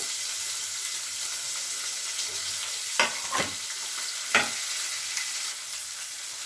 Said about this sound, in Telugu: వేగిన తర్వాత మనం కట్ చేసి పెట్టుకున్న ఉల్లిపాయ ముక్కలు పచ్చిమిర్చి వేసుకుందామండి